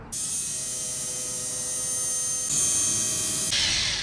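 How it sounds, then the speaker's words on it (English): A 1-inch polisher used to detail a BMW F80 M3 runs with a steady, close electric whine, stepping up in intensity partway through and shifting again near the end. "It's a 1-inch polisher."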